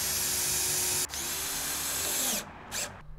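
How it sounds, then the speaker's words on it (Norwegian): A power drill drives screws through a slanted board into wooden terrace posts, whining loudly and close, then pausing briefly and ending in two short final bursts. Nobody talks. "festes skråbordet til stolpene med skruer."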